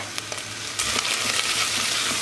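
Pepper paste sautéing with butter in a pot gives a loud, close, continuous sizzle that grows fuller partway through, with light scraping taps from stirring.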